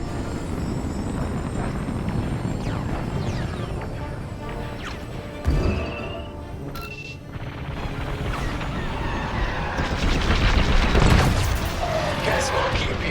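Starfighters blowing apart during a Star Wars: Squadrons dogfight, heavy booms and crashes layered over a constant engine roar, with radio voices talking across the battle.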